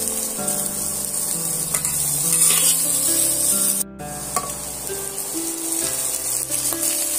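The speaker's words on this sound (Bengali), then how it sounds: "আমি এইগুলো সুন্দর করে ভাজা করে নেব।" Vegetables frying in a pan with a steady sizzle, mixed with scraping and stirring strokes of a utensil against the pan, no talking.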